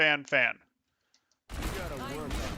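McCree's revolver in the Overwatch video game fans off a rapid, dense burst of gunfire, loud and continuous after a brief spoken phrase and a short gap of silence.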